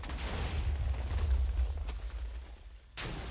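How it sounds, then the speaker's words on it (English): A deep, rumbling explosion in a video game fills the space, followed by a brief sharp crack and another low boom near the end. "That explosion over there."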